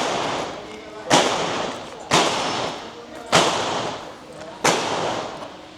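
A Girsan MC9S 9mm pistol with a polymer lower frame and heavy slide is fired four times, each loud, sharp report spaced about a second apart and trailing off into a short echo, with no talking.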